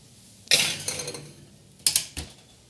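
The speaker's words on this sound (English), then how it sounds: "I'm going to place this into the oven just to get the butter to melt." A dish of melting butter for gluten-free Yorkshire pudding slid into an oven, two metallic clunks and rattles of tin against the oven rack about a second apart, close and clear.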